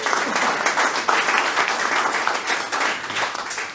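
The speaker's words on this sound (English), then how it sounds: "Big round of applause" An audience gives a sustained round of applause, many hands clapping densely and evenly at close range, with a faint voice now and then beneath it.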